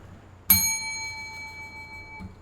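A single bell is struck once, giving a sharp metallic strike followed by a clear, steady ringing tone that sustains for nearly two seconds before being damped.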